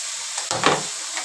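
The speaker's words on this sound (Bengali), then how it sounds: "মশলাটা আমি কষিয়ে নেব" Spice masala hisses and sizzles in a pan as it is fried with water for a Bangladeshi laitta fish dish, a brief burst of frying noise with a stirring scrape, fairly close and with no talk.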